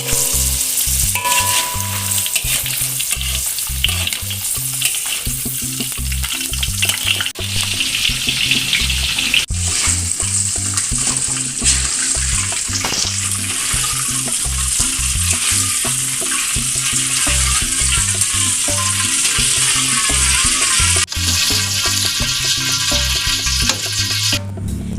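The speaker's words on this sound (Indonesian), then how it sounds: "Kemudian lanjut kita goreng jengkol berikutnya." Jengkol beans deep-frying in hot oil for homemade Minang-style jengkol crackers, a loud, steady, dense sizzle with occasional stirring scrapes throughout, no talking.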